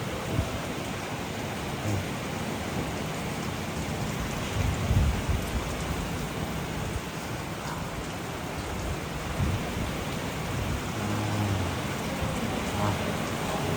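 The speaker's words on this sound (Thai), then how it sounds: "ฝนตก" Steady heavy rain pours down with a constant hiss, while low rumbles of thunder roll in the background throughout.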